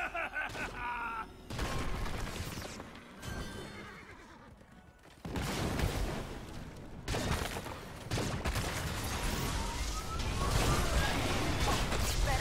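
Gunfire crackles in Heroes of the Storm, with bursts of rapid shots and impacts mixed among horse whinnies, hoofbeats and other game effects, loud and chaotic with gaps between volleys.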